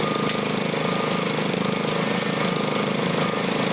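Heavy road repair machinery works on an emergency street repair on a city avenue, a loud, constant mechanical drone with a fast pulsing rattle, close and unbroken throughout.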